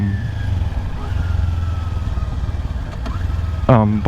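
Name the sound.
Honda Rebel motorcycle riding on city streets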